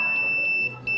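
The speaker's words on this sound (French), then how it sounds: "Le buzzer يمشينا الصوت المسموع" A homemade distance-sensor device's buzzer emits a steady high-pitched electronic tone that pulses slightly in regular repeating beeps, loud and close, with no speech.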